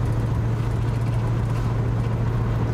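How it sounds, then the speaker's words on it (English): Steady low drone from a Mustang Mach 1 on the road as its rear limited-slip differential clutches chatter, a constant hum with faint grainy texture and no speech. "That's the rear limited slip. Oh. Feels like the clutches."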